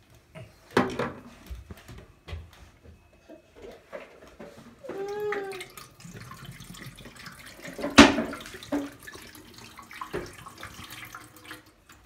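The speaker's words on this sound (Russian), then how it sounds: "Давай, вторую бутылку наливай." Water poured from a bottle into the tank of a Polaris PUH 4405D ultrasonic humidifier, with splashing and gurgling mixed with plastic knocks and handling clatter, heard close in a room.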